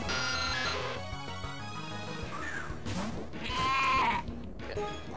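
A creature's cry from the video game Pokemon Uranium: a harsh, bleating electronic call, with several distorted bursts rising and falling over a busy game background, loud and clear.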